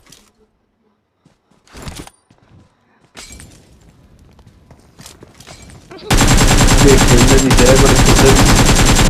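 Loud, dense automatic gunfire from a mobile shooter game on the WOW map erupts in the final few seconds and runs nonstop. Before it, friends chat casually over quieter, sparse game sounds.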